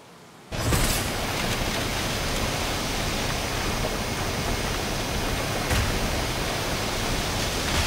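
Steady rain in the game SYNDUALITY Echo of Ada, a dense even hiss that starts abruptly after a brief quiet moment and continues unbroken, with no voices.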